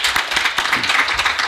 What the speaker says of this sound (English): I'm clapping for two reasons.